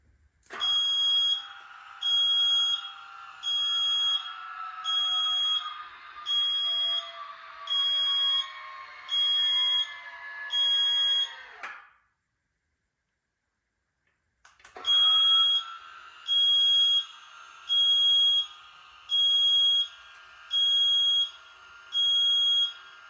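Electric parking brake from a C7 Corvette, fitted to a C2 split-window coupe, sounds a piercing high beeper in steady rhythmic pulses over a motor whine, pausing briefly before the pulsed beeping resumes.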